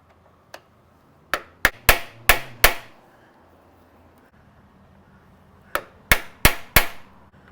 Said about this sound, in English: Now, let me get a Phillips and a hammer.